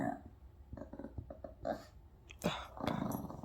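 Several dogs trade rough growls back and forth in a home, the snarls rising and falling in bursts with brief yips, close by and moderately loud.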